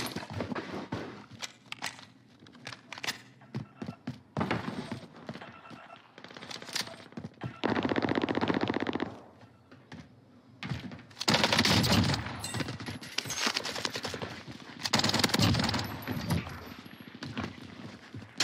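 Gunfire in Call of Duty Warzone on Rebirth Island comes in scattered bursts and single shots mixed with footsteps and game noise, some shots close and loud, others farther off.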